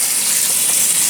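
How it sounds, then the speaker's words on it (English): Running water rinsing swelled corn kernels: a loud, steady, close rushing hiss of flowing water with no pauses or talk. "We're going to rinse them again a little bit"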